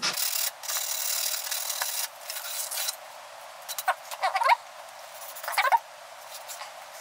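A file rasps across the cut end of a bicycle fork steerer tube to remove the burr, a close, scratchy rubbing with a few sharper strokes toward the end, on a thin, high-pitched workshop background.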